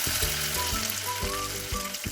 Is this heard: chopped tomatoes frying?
yes